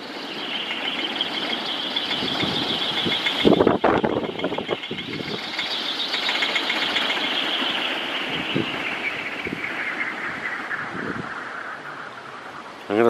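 A small wind turbine spins fast in a storm, its blades giving a continuous high whine that slowly drifts in pitch over loud gusting wind and rustling, with a few knocks and thumps.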